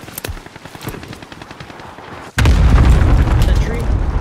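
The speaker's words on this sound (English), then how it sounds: "Enemy cluster strike." Enemy cluster strike in Warzone Caldera pounds down with a sudden heavy wall of booming, rumbling blasts after a stretch of scattered gunfire, loud and close, with voices talking over it.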